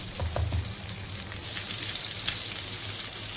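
A whole pomfret coated in green-masala semolina fries in a pan, Konkani style, giving a steady close sizzle throughout with a few brighter crackles early on, no voices.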